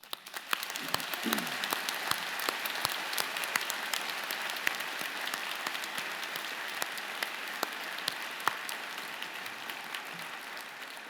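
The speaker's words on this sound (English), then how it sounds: "join me in the platform party in thanking them with a vigorous round of applause" A vigorous round of applause for friends and family at a university commerce convocation ceremony, a large hall of people clapping steadily for about ten seconds, broad and even with scattered sharper claps, fairly distant.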